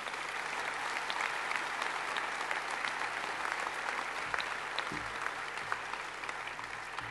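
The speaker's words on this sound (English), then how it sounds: "Why don't you give them a huge round of applause?" A large audience applauds steadily at a university graduation ceremony for the Faculty of Education and Social Work, a dense, continuous wash of clapping with no talking over it.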